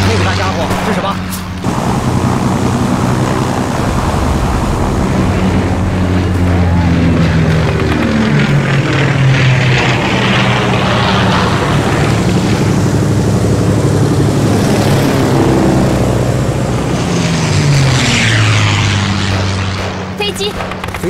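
A captured propeller airplane in a war film scene drones loudly and steadily, its pitch slowly shifting as it passes, with voices speaking over the engine noise.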